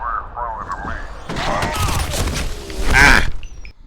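Video game gunfire with friendly fire erupts in rapid bursts of shots and booms, loud and close, mixed with game voices and grunts throughout.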